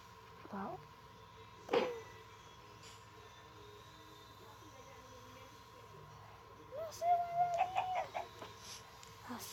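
Short Minecraft chicken clucks and squawks, scattered a few at a time over a low steady hum, with a voice talking briefly in Portuguese.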